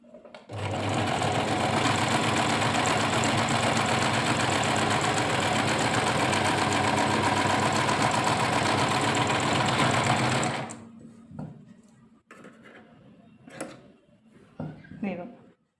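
A Singer sewing machine stitches in a loud steady whirring run for about ten seconds, then stops, leaving quieter handling clicks and rustles.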